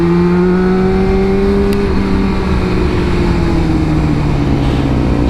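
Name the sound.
motorcycle engine revving in the wrong gear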